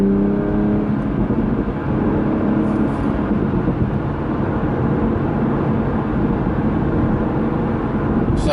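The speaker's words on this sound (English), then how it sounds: "I'm in the 2020 Supra in sport mode with the sport suspension on" A 2020 Toyota Supra in sport mode with sport suspension gives a steady, loud engine and road drone from inside the cabin, with no clear revving peaks.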